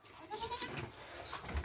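A healthy, strong goat at a livestock market bleats in short wavering calls amid background chatter and crowd noise.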